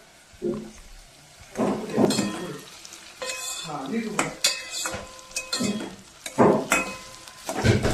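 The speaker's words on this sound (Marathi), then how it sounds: "तर चला मग कांदा फ्राय होतोय" Onions fry in a pan for a prawn biryani, sizzling under loud clinks and scrapes of a metal spoon stirring against the cookware, heard up close in bursts with no talking.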